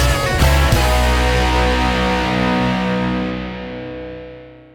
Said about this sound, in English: I've double-tracked both those guitars to fatten up the sound.